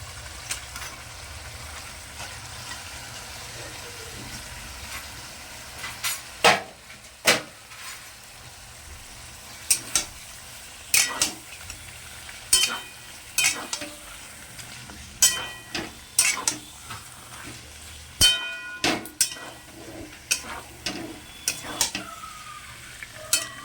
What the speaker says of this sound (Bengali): এবার কচুর শাকটা এর মধ্যে দিয়ে দিচ্ছি